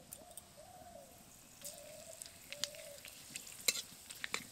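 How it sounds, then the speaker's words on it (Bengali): Dried red chillies, bay leaves and five-spice seeds fry in mustard oil in a wok with a faint, crackly sizzle and a few sharp pops. Soft pigeon coos sound repeatedly in the background. "তেলের মধ্যে এবার আমি ফোড়ন দিয়ে দেব। শুকনো লঙ্কা দেব, তেজপাতা দেব, আর 5 ফোড়ন দেব।"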